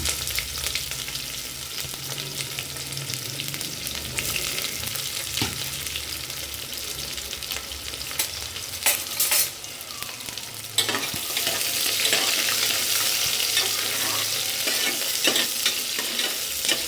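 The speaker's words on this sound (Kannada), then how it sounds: "ಸ್ಪೈಸಸ್ ಹಾಕೊಂಡ್ಮೇಲೆ ಸಣ್ಣದಾಗಿ ಹಚ್ಕೊಂಡಿರೋ ಈರುಳ್ಳಿನ ಚೆನ್ನಾಗಿ ಫ್ರೈ ಮಾಡ್ಕೊಳ್ಳೋಣ." Finely chopped onions frying with spices in a pan for soya chunks rice, a loud continuous sizzle with repeated stirring scrapes throughout and a brighter, fiercer hiss in the later part.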